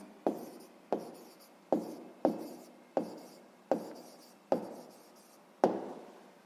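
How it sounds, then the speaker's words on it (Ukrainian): A handwritten answer goes down on paper with about eight crisp, evenly spaced pen strokes. Each stroke scratches briefly, close up and alone, in a quiet room. "Записуємо 60 замовлень."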